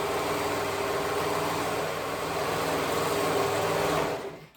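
A sewing machine runs steadily, stitching the back pieces of a garment together from a free pattern, with a continuous close mechanical whir that stops abruptly at the end and no voices.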